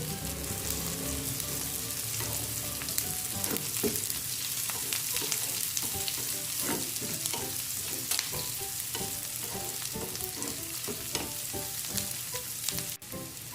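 Onion, green chilli and curry leaves fry in a pan, a continuous close sizzle with occasional stirring scrapes and clinks, steady and fairly quiet, with no talking over it.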